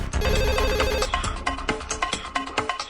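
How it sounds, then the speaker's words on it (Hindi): A loud electronic ringtone trills close by in a repeating melodic pattern, followed by busy rhythmic tones. "फोन मत उठाना, फोन मत उठाना जमुना।"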